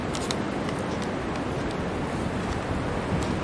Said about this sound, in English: it's very windy and the snow comes in bands